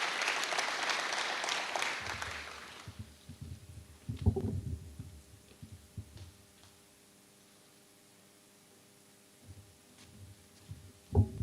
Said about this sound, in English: Let's give them all a round of applause and everyone that has committed so much to this project.